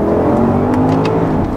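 A 2011 Porsche Panamera Turbo in Sport Plus mode accelerating hard, its engine roaring loudly and rising in pitch, heard up close from inside the car with no one talking.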